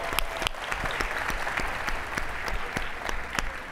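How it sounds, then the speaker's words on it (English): A packed conference audience at eMerge Americas bursts into steady, dense applause that holds for about four seconds, with sharp individual claps standing out from the broad wash of sound. "Let's give a round of applause."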